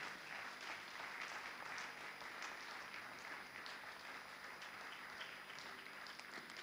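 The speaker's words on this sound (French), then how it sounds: "Nous acclamons le Seigneur." A church congregation applauding during a worship service, steady sustained clapping from many hands, heard at a distance and fairly faint.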